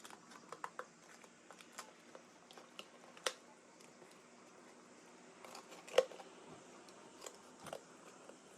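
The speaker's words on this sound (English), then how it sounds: "I'm going to cut slits from the outer circle almost to the" Scissors cut slits into a paper circle, giving a run of faint, sparse snips and crisp clicks at irregular intervals, close and quiet with no speech.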